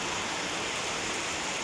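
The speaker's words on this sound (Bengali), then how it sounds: "অনেক প্রচুর পরিমাণ বৃষ্টি হইতেছে।" Heavy rain pouring down in Muscat, Oman, a dense, steady hiss of water striking surfaces that fills the whole moment without a break and with no voices.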